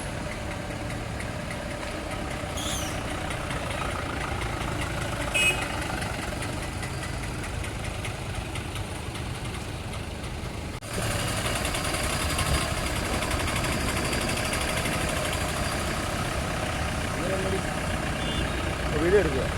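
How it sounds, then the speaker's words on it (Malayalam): Rescue team vehicles' engines idle and pull away at a riverside search site, a steady mid-pitched rumble that swells after a sudden shift, with people talking over it throughout. "അപ്പോൾ അത് നമ്മുടെ വണ്ടികളെല്ലാം ഇറങ്ങി വരുവാണ്"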